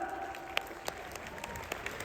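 Scattered applause from an audience at a Bhagavad Gita talk, a few distinct sharp claps standing out over a soft background of clapping and room hiss.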